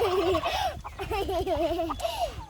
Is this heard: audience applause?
no